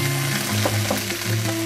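Dried red chilies and ginger-garlic paste fry in hot oil with a loud, close, continuous sizzle, spitting and splattering steadily throughout.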